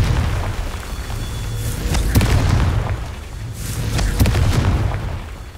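A Confringo blasting spell explodes in Hogwarts Legacy, a series of loud, deep booms with sharp cracks that come in repeated bursts over a rumbling background.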